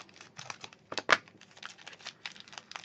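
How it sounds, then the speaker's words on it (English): Scissors snipping and crinkling open a plastic packet of vintage hat pins, a few close crisp cuts and rustles at a quiet tabletop level, with no talking. "I'm going to cut them open from the packet."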